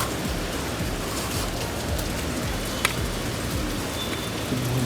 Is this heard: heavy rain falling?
yes